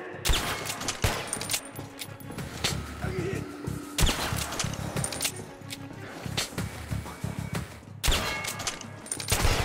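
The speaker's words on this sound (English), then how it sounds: "a shotgun ammo using shotgun ammunition in a pistol" In the Metro: Last Light video game, a pistol fires shotgun ammunition, giving heavy, booming shots about every four seconds, with metallic clinks and rattles between them.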